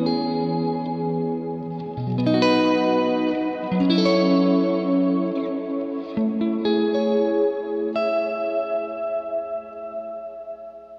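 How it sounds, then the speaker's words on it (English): Clean electric guitar chords through a Strymon BigSky reverb pedal on the hall setting with high modulation, in stereo: lush, wide hall reverb and shimmering chorus-like modulation, notes blooming and trailing off smoothly. "I'm on the hall setting, and I got modulation up pretty high, and creates this really nice warm reverb."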